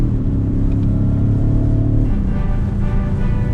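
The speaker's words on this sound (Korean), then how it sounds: "고성능 디젤 엔진에서 오는 배기음은 운전자한테 조금 더 달리고 싶다 하는 느낌을 전달을 해주고요" Deep, rumbling exhaust drone of a high-performance Audi diesel in sport mode accelerating steadily, heard close and loud with a low growling tone.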